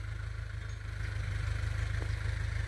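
A Ford 6600 tractor plowing a rice paddy runs with a steady, throbbing low engine drone, loud and constant throughout with no speech.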